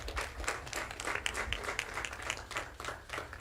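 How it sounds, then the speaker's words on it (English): Audience applause at the Annie Malone May Day Parade, rendered as a steady, dense patter of many hands clapping that holds at moderate, fairly distant loudness for the whole stretch without a pause. "Let's give a round of applause for that"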